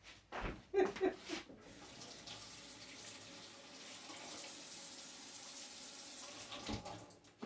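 Tap water runs steadily into a sink, a hissing stream after a few knocks and clatters at the start, with faint voices in the background.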